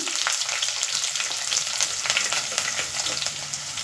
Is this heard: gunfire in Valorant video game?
no